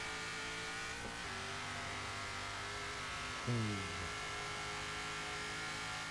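Hot Wheels toy car in Forza Horizon 3, its engine droning steadily at a sustained pitch and then revving up sharply with a brief pitch sweep before settling back.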